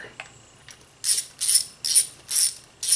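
A ratchet snugs up bolts while installing a Fel-Pro BS 40656 rear main seal on an engine, first a few faint clicks, then five loud, close, rapid bursts of ratcheting clicks at an even rhythm.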